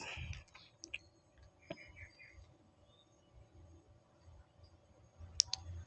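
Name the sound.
mouse clicks on computer settings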